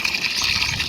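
Water is poured steadily into a container to mix with a farm spray solution for chilli plants, giving a short, close, continuous splashing gush.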